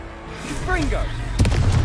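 A Confringo blasting spell in the Hogwarts Legacy video game bursts with a sharp, loud crack near the end, right after a short voiced shout.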